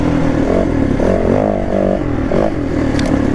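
A Yamaha WR450 enduro motorcycle engine runs close by, its revs rising and falling in short surges with some clattering, heard briefly and without talk.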